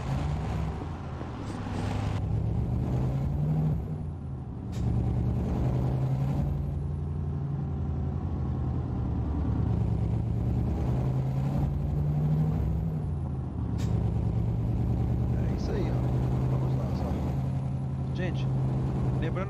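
A retro 1938 Mercedes-Benz truck driving in a video game, a steady low engine drone rising and falling through gear changes, with occasional hissing bursts, while someone talks over it throughout.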